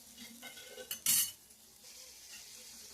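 A spoon scrapes and clinks in a pan while kodukkapuli (Manila tamarind) is stir-fried. A faint sizzle runs underneath, and one louder metallic scrape stands out midway.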